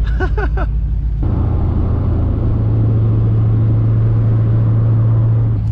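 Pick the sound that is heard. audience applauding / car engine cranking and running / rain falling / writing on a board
car engine cranking and running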